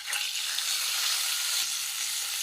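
Spices temper in lightly heated white oil, giving a steady, bright, close sizzling hiss that holds evenly throughout with no talk.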